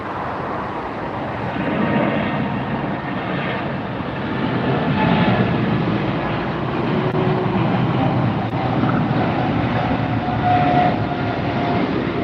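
A China Airlines airliner arriving at LAX makes a steady, loud, broadband jet roar that holds evenly and swells slightly as it passes.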